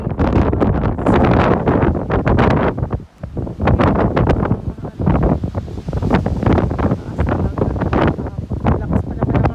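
Strong gusts roar and buffet the microphone at the white chalk cliffs of Seaford, England. The blasts are loud and come in surges with a brief lull partway through. No voices come through the wind.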